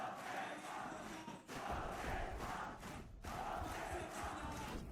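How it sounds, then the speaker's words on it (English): A live crowd at a Valorant esports grand final watch party roaring and chanting in sustained waves, dipping briefly twice before swelling again, loud and close, with no talk over it. "Listen to the crowd willing them forward."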